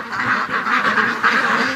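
Farm ducks quack in a close, loud cluster, several rapid overlapping nasal calls pulsing in quick succession, with no voices over them.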